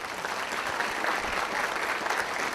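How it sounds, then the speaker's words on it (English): An audience at a county awards ceremony applauds the freshmen, a dense, even wash of clapping from a crowd that holds steady for the whole stretch without a break. "How about a round of applause for our freshmen?"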